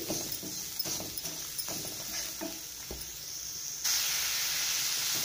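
Grated carrot and sugar stirred in a pan for carrot laddu, soft scraping strokes and gentle sizzling hiss, faint and close, with a brighter hiss rising near the end.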